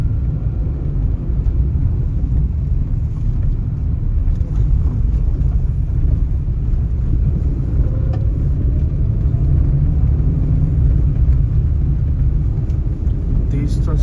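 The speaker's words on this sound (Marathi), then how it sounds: "ते मुंबईच्या दिशेने येणाऱ्या गाड्या आहेत" Vehicles driving along the Mumbai-Goa highway toward Mumbai, a loud continuous low roar of passing traffic close at hand, with a rising tone near the middle.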